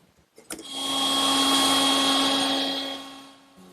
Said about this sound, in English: And I'll do that over at the router table.